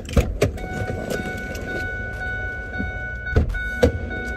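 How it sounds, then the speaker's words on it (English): A car's cabin hum runs steadily while it drives, with a few sharp clicks and knocks from inside the vehicle. "Now we're loaded up in the car, headed to drop the kids off."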